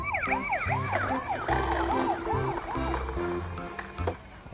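A white toy ambulance siren wails in a continuous rising-and-falling electronic pattern, loud and close, with rhythmic beeping tones underneath and no talking.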